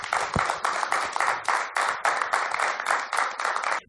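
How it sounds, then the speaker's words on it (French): Rhythmic clapping in regular bursts, like an audience applauding in time, loud and close, without talking. "Nous accueillons l'invité par des applaudissements"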